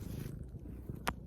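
A cat purrs close by in a soft, low, continuous rumble, broken by a brief sharp noise near the end.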